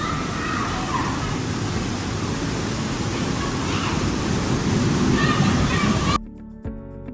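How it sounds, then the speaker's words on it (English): Rushing water pours loudly and steadily in an indoor fish exhibit, a dense continuous wash that cuts off abruptly near the end, leaving a quieter room. "They had rushing water."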